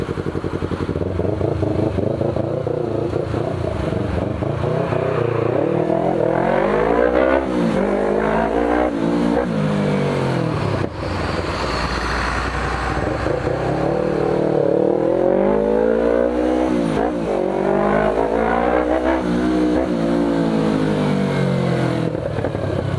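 A Yamaha R25 motorcycle engine stuck in traffic, loud and continuous, with rising and falling revs as it idles and pulls away among nearby vehicles.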